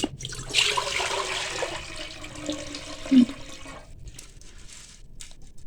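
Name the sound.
water being poured into a pot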